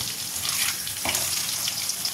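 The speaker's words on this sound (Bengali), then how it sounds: "গরম তেলের মধ্যে এই কারি পাতাটা আগে ফোড়ন দিয়ে দেবো" Curry leaves sizzling in hot oil in a pan, a close, dense frying crackle with a sharp burst of spitting as they hit the oil.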